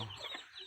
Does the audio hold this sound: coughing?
no